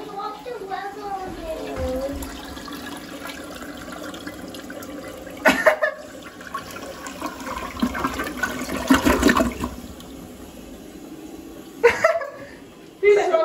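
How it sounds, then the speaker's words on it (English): A toilet flushes with a rushing gurgle of water and then refills. Voices talk and laugh over it, with a few sharp knocks and bumps. "Throw into the toilet. And flush it, okay?"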